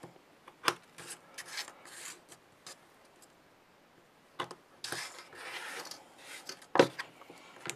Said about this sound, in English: just turn it around and slice off the excess barge boards